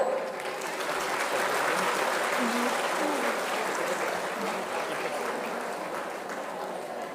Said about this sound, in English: They all are applauding.